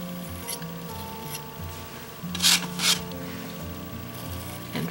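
A palette knife skims acrylic texture paste across a painting surface, giving two short, raspy scraping strokes at middle distance over a faint steady background hum.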